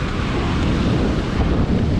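Strong wind and ocean waves at the beach form a loud, continuous roar with heavy wind buffeting on the microphone and no clear pauses.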